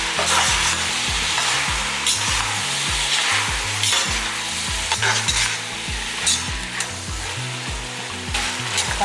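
Vegetables for sambar rice sauté in a pan under constant stirring, with a loud, continuous sizzle and repeated rhythmic scraping strokes of the spoon against the pan, close up.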